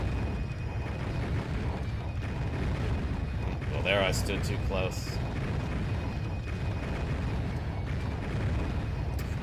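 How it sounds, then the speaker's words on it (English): In the PlayStation game Alundra, machinery rumbles and falling explosions keep up a dense, continuous low roar while the world shakes, with a voice talking briefly over the din. "Can you guys hear me over the machinery and the falling explosions?"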